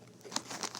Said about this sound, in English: and I'm eating Fritos.